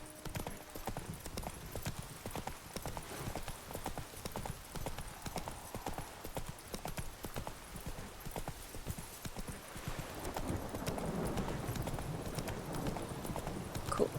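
Roach the horse trots steadily through The Witcher 3, a continuous rhythmic clip-clop of hooves, close and loud, with a brief whinny hint and water-like splashing toward the end.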